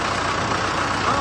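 A tractor with an overheated engine idles loudly and close by, giving a steady, unbroken rumble with no change in pace.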